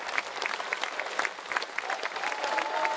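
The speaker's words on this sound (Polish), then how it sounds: "Jeszcze raz wielkie brawa." At an international folklore festival, an audience claps for a Mexican ballet folklórico and mariachi ensemble; scattered, crisp individual claps blend into lively applause, fairly soft and somewhat distant, with a faint tonal sound near the end.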